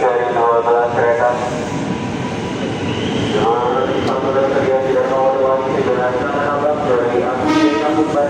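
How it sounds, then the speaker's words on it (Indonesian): A JR 205 series commuter train bound for Bogor pulls into Manggarai station, its loud motor whine rising and falling in tones close by, with people talking over it on the platform. "JR 205 106 masuk stasiun Manggarai dengan tujuan akhir stasiun Bogor"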